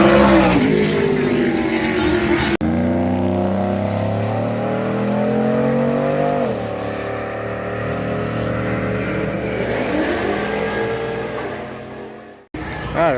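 NASCAR Whelen Modified race car lapping New Smyrna Speedway, a loud engine roaring and revving as it runs down the back straightaway, pitch rising and falling, then cutting off abruptly near the end.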